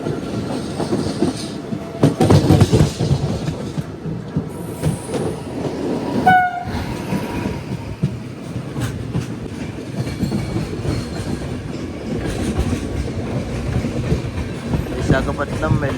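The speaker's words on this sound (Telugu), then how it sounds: "ట్రైన్ వస్తుంది ఆపోజిట్లో మనకి." Seen from aboard the Machilipatnam Express, a train on the opposite track rushes past with loud rolling rumble and clatter and a brief horn blast midway, as people talk over the steady noise.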